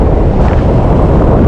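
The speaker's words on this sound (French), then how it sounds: "Le vent s'est vraiment levé, ça devient compliqué d'avancer." Strong wind in Australia buffeting the microphone, a loud continuous low roar with no voices.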